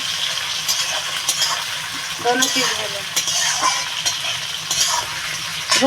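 Onion sizzles and fries in a pan, stirred with occasional scrapes and clinks of a utensil, a steady close crackle running throughout while someone speaks at times, cooked with garlic for a country chicken curry.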